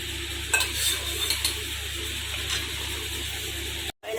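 Fried paneer folded into a simmering kurma gravy in a pan, with a spoon stirring and clinking now and then over a constant low hum and soft sizzle before a brief cut.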